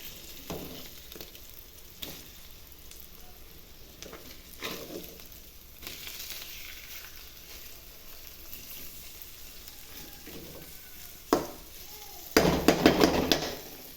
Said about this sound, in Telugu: ఒకవైపు కాలిపోయిన ఎగ్స్ తిప్పేద్దాం